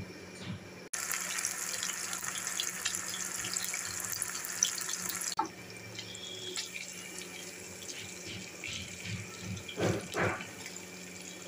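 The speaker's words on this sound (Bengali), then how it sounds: "তেলটা গরম হয়ে গেছে, এবার আমি চিকেনটা একটা একটা করে দিয়ে দেবো।" Cornflour-coated chicken pieces go one by one into hot oil, with a steady, close sizzling hiss that thins after a few seconds into a softer, crackling fry.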